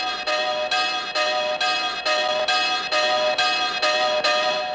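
Church bells ring an alarm peal in a steady, repeated rhythm, about ten even strokes, loud and close, each tone ringing into the next.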